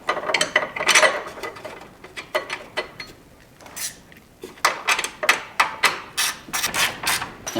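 A hand ratchet clicks as a bolt is tightened on a shock bracket of a 2018+ Jeep Wrangler JL or Gladiator, with bursts of rapid ratcheting strokes close up, a short pause, then a steadier run of sharp clicks.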